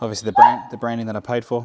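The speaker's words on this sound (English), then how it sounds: "Excuse the dog barking in the background." A dog barks and yips a few times in quick bursts in the background while someone speaks over it.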